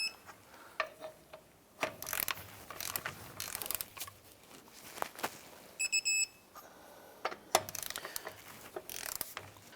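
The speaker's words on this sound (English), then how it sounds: "I'm going to go ahead and torque the lug nuts down to 103 foot-pounds." Torque wrench clicking and ratcheting while lug nuts are tightened on a Chevy Colorado wheel, a run of sharp mechanical clicks and ratchet bursts scattered across the stretch, fairly close with no talk.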